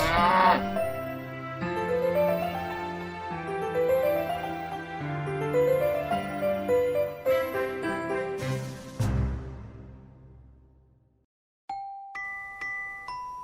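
A toy cow gives a short, clear moo near the end, following a stretch of bouncy background music and a loud thump, during children's play with toy animals and a wooden truck.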